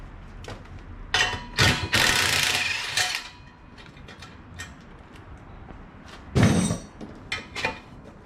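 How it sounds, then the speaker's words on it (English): Tools working on a car's tailpipe V-band clamp, with bursts of ratcheting clicks and metallic mechanical rattles up close, separated by quieter pauses, no talking. "I'm going to remove the tailpipe here by unbolting the V-band clamp here as well."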